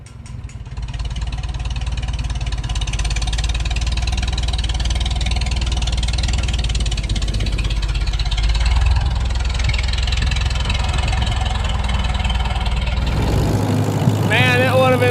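A Farmall M tractor engine runs loudly and steadily at a low rumbling idle, its tone shifting slightly near the end.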